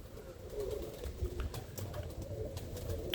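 Roller pigeons coo softly in a low, continuous murmur from several birds at once, with faint wing flutters and rustling nearby.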